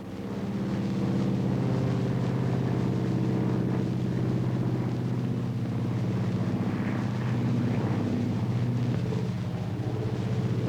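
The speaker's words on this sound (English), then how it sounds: "They've got a new contraption. They call it the airplane." A steady, loud engine drone hums throughout, a constant low mechanical roar like a propeller plane heard up close.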